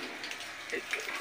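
Water drains with a steady rushing hiss from the blowdown valve of a semi-automatic steam boiler, a continuous gushing flow under quiet speech.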